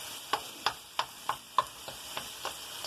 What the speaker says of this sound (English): they need to be broken apart. That's why I'm poking at stuff.